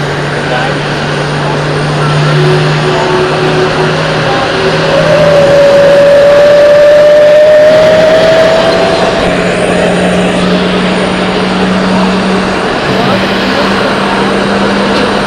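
A Royal Jordanian airliner at Zurich Airport, heard as a steady, fairly loud jet engine roar with a rising whine through the middle, sustained throughout, with faint talk in the background.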